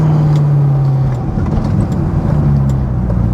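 Corvette C6 Z06 with its naturally aspirated LS7 V8 on a drive, a loud steady engine drone that dips briefly before climbing again, heard from inside the car with no talk.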